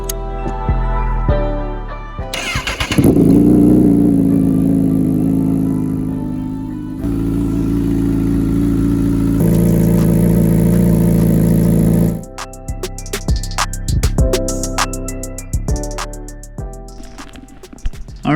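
A 2019 Honda CBR1000RR motorcycle engine starting and running, a loud close idle that holds steady, rises in pitch with a rev, then drops into clattering, uneven sounds near the end.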